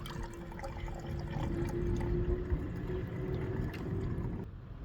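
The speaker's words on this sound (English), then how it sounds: "I'm going to drain the fuel tank." Fuel mixed with water drains from the tank of a Craftsman push mower, a soft continuous trickle and pour into a container with faint drips, fairly quiet and close, with no voices.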